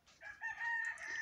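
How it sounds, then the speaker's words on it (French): A rooster in a home garden crows once, a loud, close, strained cock-a-doodle-doo lasting about a second, with no other sound around it. "Du coup, le coq, il gueule, il n'est pas content."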